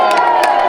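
A large crowd at the Tour de France 2025 team presentation cheers and applauds, a loud roar of voices with sharp whoops cutting through in a brief burst.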